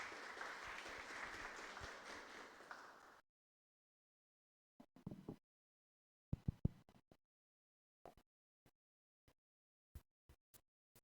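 An audience at a tax seminar on ICMS claps for about three seconds as a speaker is introduced. After a silence come scattered thumps and clicks, then a run of sharp isolated taps.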